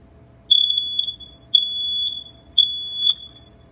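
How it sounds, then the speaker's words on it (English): A smoke detector being tested during a fire prevention demonstration lets out three loud, piercing electronic beeps, each about half a second long and evenly spaced, over a faint low room hum. "That is the sound the smoke detector should make if it's working."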